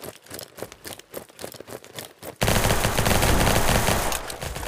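Rapid automatic fire from a Vector submachine gun in the battledudes.io shooter game: sparse shots at first, then a loud, dense continuous burst that runs on until the magazine empties.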